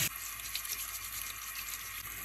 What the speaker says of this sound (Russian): тщательно промою под проточной водой, щеточкой.